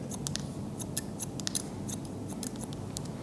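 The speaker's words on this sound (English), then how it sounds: "I work just with some scissors overcomb to start" Scissors snip hair over a comb during a haircut, a quick run of close, crisp metallic cuts in irregular bursts over low room noise.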